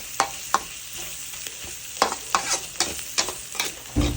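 Puffball mushrooms with pork are stir-fried in a pan in the Lahu style, a steady close sizzle punctuated by a rapid series of sharp spatula clacks and scrapes, with no voices.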